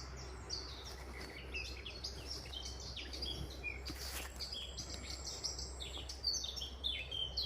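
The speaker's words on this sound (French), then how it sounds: "On entend les oiseaux, c'est ouf." Several birds chirp and tweet outdoors in a steady scatter of short calls, moderately near, over a constant low background hum, with no talking.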